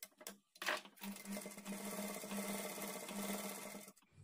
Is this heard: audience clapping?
no